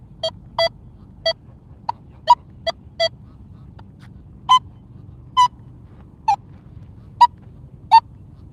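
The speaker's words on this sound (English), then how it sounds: "I just get chirps when I crank my sensitivity up." A metal detector set to maximum sensitivity gives about a dozen short, separate, close chirps at irregular intervals over a low background hum.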